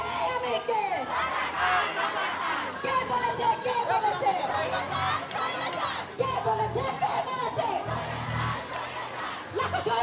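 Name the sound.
students chanting slogans at a rally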